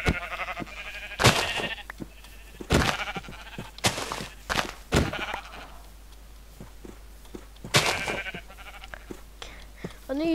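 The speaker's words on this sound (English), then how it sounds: "There's so many sheep." Blocky game sheep bleat in Minecraft, several wavering bleats scattered across the stretch at moderate loudness, with a few soft thuds between them and no talk over them.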